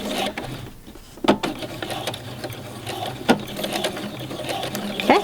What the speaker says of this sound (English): I'm going to do another back stitch.